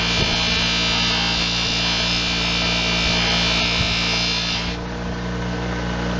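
A small buffing wheel on a bench motor polishes a discolored bronze boat propeller, a steady, loud electric whine and hum with faint rhythmic pulsing, easing slightly lower near the end.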